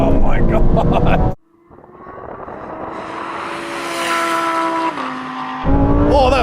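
A Ferrari and other fast sports cars accelerate hard from 30 mph in second gear during a race, a loud rising engine roar building over several seconds and then holding high, with excited voices talking at the start and end.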